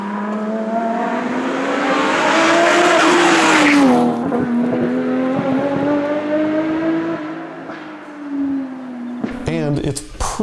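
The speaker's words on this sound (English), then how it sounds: "the RB20 is arguably better sounding than the RB25 or RB26 or even the RB30 because of that rev-happy design and small displacement" A Nissan RB20-engined car drifting, its small-displacement engine holding a high, rising and falling rev tone with tire squeal and roar close by, easing off near the end amid sharp bursts.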